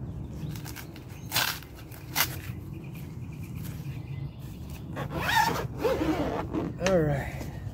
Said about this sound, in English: Got a two-way zipper on it.